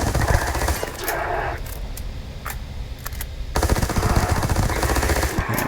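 The Kraken weapon in Starfield fires in rapid automatic bursts, a dense, loud, clattering stream of shots that pauses briefly mid-clip and then resumes at full intensity, close and dominant.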